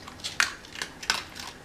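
A baby munching food makes soft, close crunching and smacking bites, four or five small irregular chews over quiet room background.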